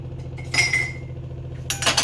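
A metal kadai is picked up and set down on a kitchen stove with clanking and clinking, a few sharp metallic knocks over a steady low hum.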